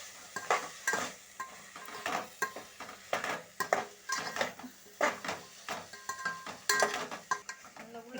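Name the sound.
bitter gourd sautéing with tomato and onion in a pan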